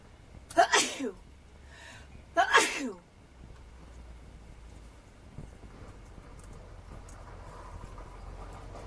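Two sharp sneezes about two seconds apart, close and loud, followed by quiet room noise.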